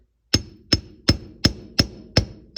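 A socket tapped with a hammer to seat a rear wheel bearing seal on a 1971 MG Midget, giving six evenly spaced, sharp metallic knocks about a third of a second apart, close and clear with no talking.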